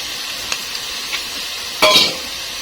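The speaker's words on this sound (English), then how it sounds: "I will mix everything together" Garlic and ginger stirred into golden-brown frying onions for kheema, a steady close sizzle with a few soft spoon scrapes and one louder clatter near the end, no voices.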